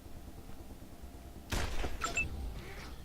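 Gunfire in the video game Wasteland 2: Director's Cut, a sudden burst of shots against robot enemies that cuts in after a quiet stretch, followed by a few sharp metallic pings and a fading rumble.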